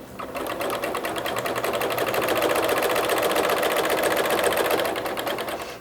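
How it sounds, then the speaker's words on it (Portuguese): A sewing machine runs steadily at close range, its needle clattering in a fast, even rhythm while sewing small stitches around an Easter bunny cushion. "eu vou costurar"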